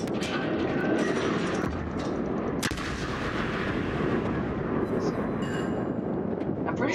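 Six-inch naval guns of the French cruiser Jurien de la Gravière firing in a World of Warships-style video game, a dense, continuous rumble of heavy booms and blasts filling the whole stretch.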